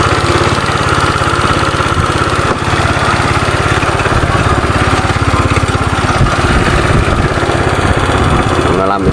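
A motorcycle engine runs at a steady idle after a carburetor adjustment, a loud, close, even putter with a fast regular pulse throughout, while someone talks over it.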